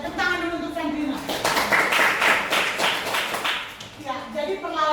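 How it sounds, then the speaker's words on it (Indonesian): Classroom applause breaks out after a student's presentation, a dense burst of clapping from many hands lasting a few seconds, with children's voices talking before and after. "tepuk tangan dulu untuk Sandrina."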